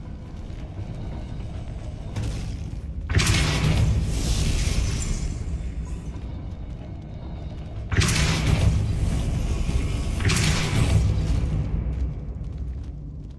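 Two heavy booming magical blasts from the Depulso spell in Hogwarts Legacy, each a loud burst that swells and rumbles away over several seconds, about five seconds apart.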